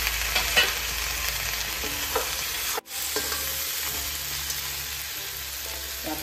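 Pork frying in a pan with onions, chilli and tomatoes, a loud, close, steady sizzle with stirring and scraping throughout and one brief break partway through.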